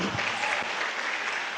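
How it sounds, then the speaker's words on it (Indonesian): An audience at a talk breaks into applause, a dense wash of clapping that holds steady for a moment and carries no voices over it. "Kenapa tepuk tangan nih?"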